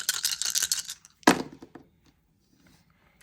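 Four regular dice shaken in a hand, a quick rattling clatter, then one sharp thunk as they land on a surface, followed by a few faint settling clicks before quiet.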